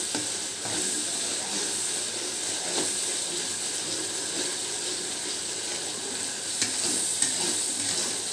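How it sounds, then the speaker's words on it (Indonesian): Spice paste for Soto Madura frying in a pan, a continuous close sizzle and hiss with occasional stirring scrapes, fairly quiet and steady with no talking. "kalau misalnya bumbunya sudah kita goreng itu cepat nanti hasilnya"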